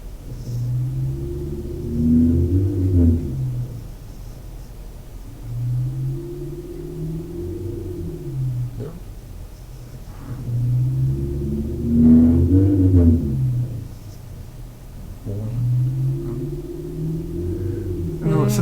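A car engine rumbles and rises in repeated cycles, swelling up with acceleration and falling away four times, fairly close and steady in loudness.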